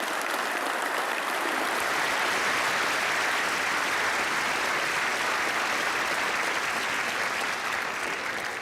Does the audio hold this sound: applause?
yes